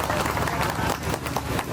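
Hall audience at an Independence Day function applauds steadily, a dense continuous wash of many hands clapping over a murmuring crowd throughout.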